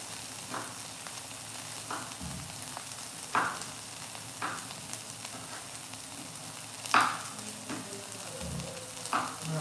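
Green figs and red onions sizzle softly in a pan, with steady frying hiss broken by occasional stirs and utensil scrapes, fairly quiet and close.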